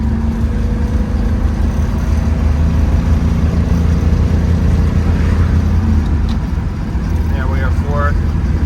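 A 1968 Camaro fitted with a Gardner chambered exhaust cruises in 3rd gear, giving a steady, mild low engine rumble that stays constant and close throughout, with faint wind and road noise over it.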